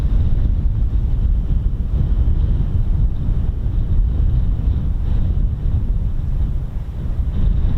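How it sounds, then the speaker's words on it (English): Strong gusting wind buffeting an outdoor microphone at the Holbeach air weapons range, a constant heavy low roar with no other clear sound above it. "Gosh, it's windy."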